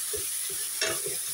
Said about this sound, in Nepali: घिरौँला चलाउनु।